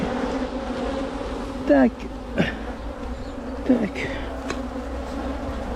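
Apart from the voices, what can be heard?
bees buzzing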